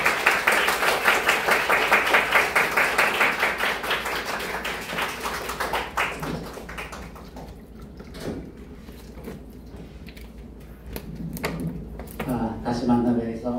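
Congregation at a Korean-Japanese Christian retreat in Kyoto applauds to welcome an elder to the podium, a dense, loud wash of clapping for about six seconds before it thins out into scattered claps and murmured talk.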